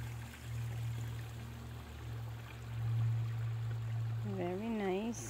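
Mountain spring water flows steadily and close by in a wooded setting, a continuous low burbling stream with a faint voice talking near the end.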